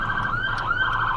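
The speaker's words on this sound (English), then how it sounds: "The sirens are on my end because there's an ambulance trying to get through very loudly." An ambulance siren passing loudly nearby, a steady wailing tone with rhythmic warbling sweeps, continuous over low traffic rumble with no talk.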